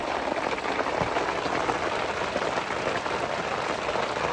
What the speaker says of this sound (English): rain on a tent